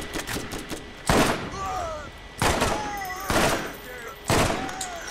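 Enemy gunfire in the shooter game Borderlands: four heavy, loud gunshot bursts at uneven intervals with short ringing tails, plus a background hum and faint whistling tones between them.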